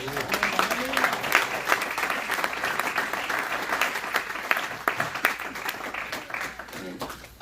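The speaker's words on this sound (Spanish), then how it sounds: "Den un fuerte aplauso, hermanos." A church congregation breaks into sustained applause, many hands clapping loudly together, with a voice speaking over it in Spanish at the start and end.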